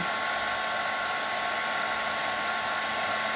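A heat tool blows hot air for embossing a card, a steady loud whooshing roar that runs unbroken and alone throughout.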